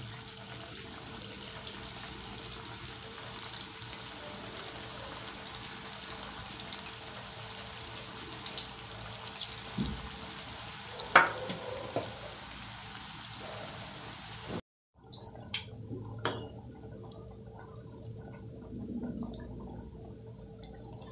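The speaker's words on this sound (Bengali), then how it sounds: "বলগুলো এখন তেলে দিয়ে দিলাম।" Vegetable Manchurian balls fry in hot oil with a steady, even bubbling hiss. The sound is interrupted by a brief cut partway through and then continues, with a few faint clinks and no talk.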